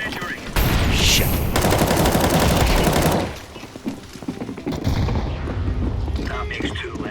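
Gunfire in a multiplayer shooter video game, a loud dense burst of rapid shots lasting a few seconds, then quieter combat noise with voices talking over it.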